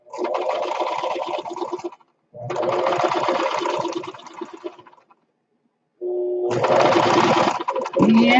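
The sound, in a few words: sewing machine stitching a seam on quilt fabric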